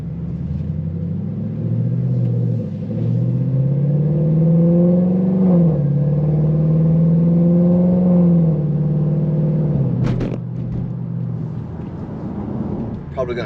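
Car engine in a street-tuned vehicle pulled hard at wide open throttle, a loud steady rising rumble that climbs in pitch, with a brief shift-like break near the end.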